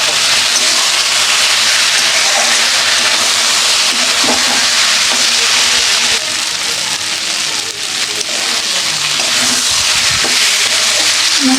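A spice mixture with onion fries and is stirred in a pan, giving a steady broadband sizzle and hiss with faint scraping knocks throughout.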